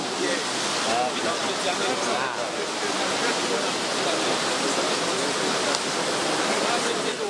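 Floodwater rushing and carrying logs in western Cameroon, a loud, continuous broadband roar of churning water with no pauses and a voice faintly beneath it.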